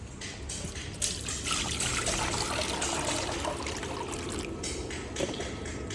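Liquid drains steadily from an engine oil sump after the drain nut is removed, a continuous close splashing trickle with no pauses.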